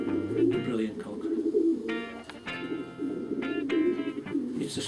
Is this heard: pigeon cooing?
yes